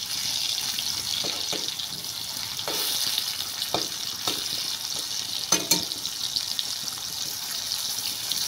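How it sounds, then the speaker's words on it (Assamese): Pieces of ridged gourd frying in hot oil, a steady close sizzle with occasional crackles and stirring clicks, no talk over it. "এতিয়া মই তেলত ফ্ৰাই কৰিম এইটো"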